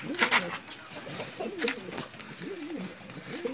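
Racing pigeons coo close by, with several soft, rolling throaty coos repeating over a few seconds.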